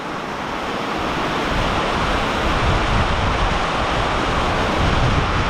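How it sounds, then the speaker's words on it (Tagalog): Loud, constant typhoon downpour on a farm roars without pause, thick and broadband like driving rain pushed by strong wind, with nobody speaking. "Tapos sabayan pa ng hangin na malakas."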